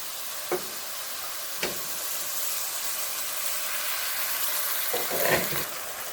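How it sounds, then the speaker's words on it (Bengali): Oil goes into a hot pan with spice paste for a spicy pumpkin shrimp curry, giving a steady, fairly loud sizzling hiss with a few soft knocks of the utensil. "আর এখানে দিয়ে দেবো এখন তেল"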